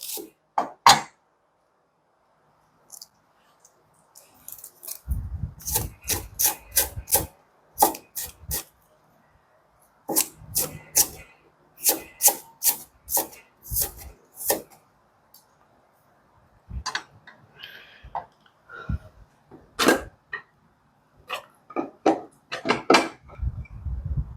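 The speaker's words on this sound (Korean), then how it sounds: "대파 채 썰어 봅니다." A knife julienning green onion (daepa) on a wooden board: quick runs of crisp, rhythmic taps, broken by short pauses and a few scattered knocks, close and fairly quiet with no talking.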